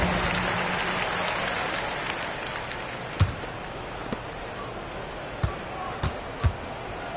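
Home crowd applause and cheering fills an NBA 2K26 basketball arena after a win, a steady roar across the whole clip with a few sharper claps and faint squeaks and thuds on top.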